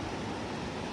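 A continuous, even wash of flowing water from the Sankhuwa river near Bumlingtar, Bhojpur, holds at a moderate level for the whole second with no breaks or distinct events.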